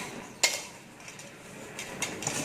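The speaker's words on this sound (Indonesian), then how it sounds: "Kita aduk lagi. Nah, kita aduk seperti ini sampai kalis" Martabak dough stirred with cooking oil in a bowl, heard as a faint scraping stir marked by one sharp utensil clink against the bowl early on and a few lighter taps later, with no voice over it.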